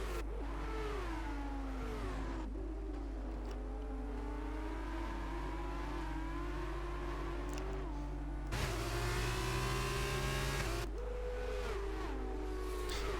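Racing car engines in a simulated race at Bahrain hum and whine steadily, with pitch rising and falling through gear changes as several cars run close together, fairly faint under constant background tone.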